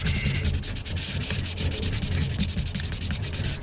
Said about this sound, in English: grab some sandpaper and just sand down a little bit on it.